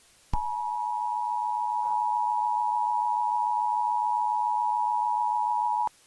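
Emergency Alert System attention tones sound as a single loud, steady electronic tone that holds unbroken for several seconds before cutting off abruptly.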